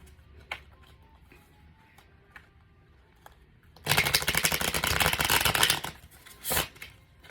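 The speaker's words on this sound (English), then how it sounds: "Give you a good shuffle." A deck of tarot cards gets a quick riffle shuffle: a few soft taps and card handling come first, then a dense, crisp burst of flicking cards lasting about two seconds, followed by one more snap. No one speaks.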